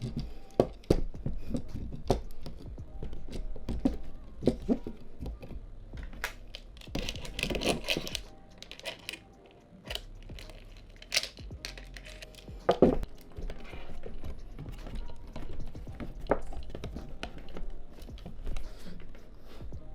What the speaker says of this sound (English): Now I'm going to mount the camera to be able to show you how it works.